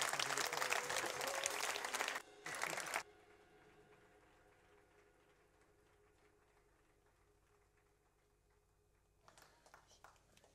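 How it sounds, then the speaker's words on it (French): Church congregation applauding and cheering at a Christmas service, a loud burst of clapping and acclamation for about two seconds, a short second burst, then quiet room tone before faint clapping returns near the end. "Est-ce qu'on peut faire monter une acclamation tous ensemble?"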